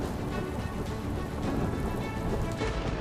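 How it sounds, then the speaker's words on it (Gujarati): Heavy monsoon rain pouring down in South Gujarat, a loud, continuous wash of drops hammering surfaces, steady and dense throughout with no voices. "દક્ષિણ ગુજરાતના મોટા ભાગના જિલ્લાઓમાં ભારે વરસાદ ખાબક્યો છે"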